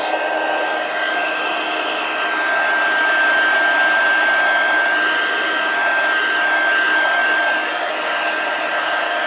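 A craft heat tool on its low setting blows steadily over a watercolor card, a loud, continuous airy whoosh with a faint whine, unbroken for the whole stretch and with no voices.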